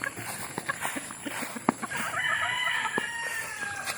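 Chickens in a brooder cluck and chirp busily at close range, with scattered sharp peeps and a higher drawn-out call over a constant hiss of background noise.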